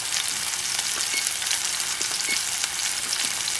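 A thick bison T-bone steak sears in a hot cast iron pan, giving a loud, steady, dense sizzle with scattered crackles and pops throughout, with no voices.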